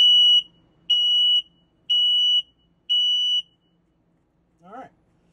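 Test alarm of a carbon monoxide and LP gas detector inside a Forest River travel trailer: four long, loud, piercing electronic beeps at a steady one-second rhythm, close up, then a brief low thump before silence.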